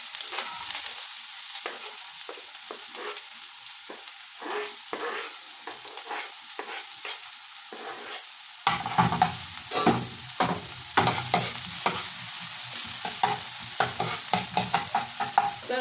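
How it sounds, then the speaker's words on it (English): Onions fry in oil in a hot pan for shakshuka, giving a close, continuous hiss with crackling spits that swell into a louder, busier sizzle partway through, with no voices. "so we're gonna put some oil, just enough to fry the onions"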